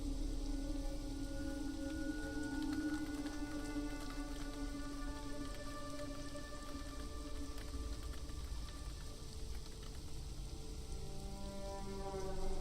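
Steady rain patters continuously in a roleplay video game, an even, soft hiss with faint tonal hums beneath and no voices.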